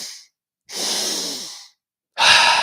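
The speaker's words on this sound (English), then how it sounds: "you might feel a bit lightheaded as you're intentionally hyperventilating here" Deep, forceful breaths from a person doing a breathwork hyperventilation exercise in a training session for mountain athletes: a rushing exhale, a long drawn breath, then another loud, sharp breath, each close and separated by brief silence.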